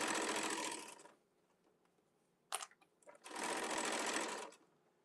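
A sewing machine stitches a market tote bag in two steady whirring runs, loud and close, separated by a quiet pause with faint clicks and handling noises.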